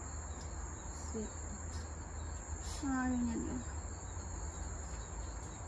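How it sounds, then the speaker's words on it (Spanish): Crickets chirp in a steady, high continuous trill throughout. A short spoken exclamation and a brief bird-like call rise above the insect drone. "¿Cómo hacen los grillos? Grillos son,"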